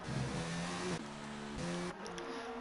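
Ferrari race car engine on track in a racing game, a steady mid-pitched drone that steps up in pitch through gear changes at roughly half-second intervals, moderately loud and with no talk.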